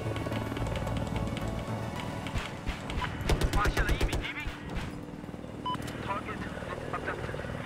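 Rapid bursts of gunfire at an enemy in a shooter game crackle in quick repeated shots, loudest in the middle, under a steady engine drone and someone talking.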